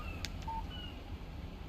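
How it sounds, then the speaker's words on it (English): A phone text message alert in Alan Wake Remastered gives a brief electronic tone and a short beep over a low, steady background hum. "Text message from Barry."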